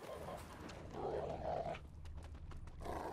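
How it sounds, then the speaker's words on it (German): A dog in The Witcher 3 growls and barks in a low, rough tone at middle distance, with clip-clopping hooves and game ambience mixed in throughout. "Was ist das? Ein Hund."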